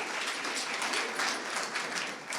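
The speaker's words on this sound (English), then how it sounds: "Please give him a round of applause." Audience applause at a sales leaders awards event as a speaker is welcomed to the stage, a dense, continuous wash of clapping from a large crowd, steady and fairly distant, with no talk over it.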